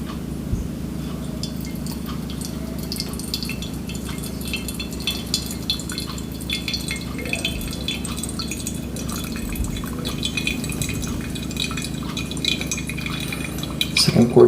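Water trickling and dripping steadily as hot water is poured over Guatemalan coffee grounds in a V60 dripper, a continuous close pour with faint clinks and a low hum beneath.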